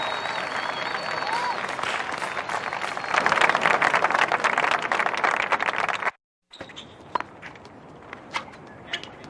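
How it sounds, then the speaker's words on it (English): A crowd at a tennis match applauds and cheers, a dense burst of clapping that swells midway, cuts out briefly, then returns as scattered sparser claps. "People cheer."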